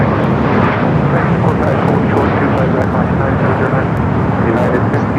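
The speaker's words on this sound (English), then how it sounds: "787-10 Dreamliner coming from Amsterdam." KLM Boeing 787-10 Dreamliner arriving from Amsterdam at LAX, a continuous loud engine roar with a dense rumble, with a voice talking over it.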